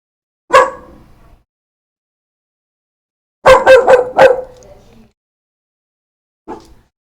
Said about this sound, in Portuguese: Não é pra latir.